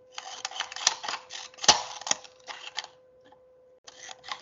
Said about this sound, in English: if we carefully cut with our scissors now all the way down